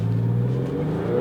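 A Porsche 996 engine accelerates with a loud, steady, rising tone over a brief stretch, with no talking.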